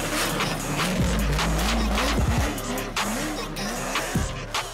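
Toyota Supra with an LS3 6.2 liter V8 running, a loud, deep engine note whose pitch rises and falls through revs, with a few squealing tire sounds in between.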